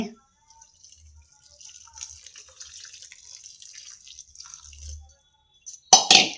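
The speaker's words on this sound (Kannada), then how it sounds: "ಸ್ವಲ್ಪ ಒಂದು ಅರ್ಧ ವಾಟೆ ನೀರು ಹಾಕ್ತೀನಿ." Water poured into a pan of cooking avarekaalu (field beans) for palya, a steady splashing pour that swells and runs for several seconds before a brief louder burst of clatter at the end.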